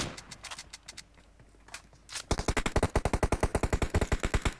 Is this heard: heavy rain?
no